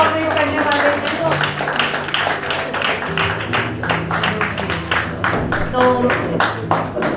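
Sharp, rapid clapping from an audience at a book inauguration ceremony keeps going while someone talks over it.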